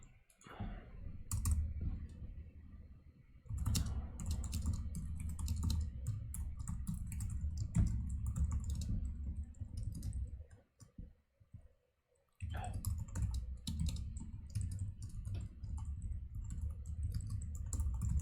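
Rapid clicking of a computer keyboard as someone types out code for an array-partitioning problem, steady close bursts of keystrokes with a short pause near the end before typing resumes.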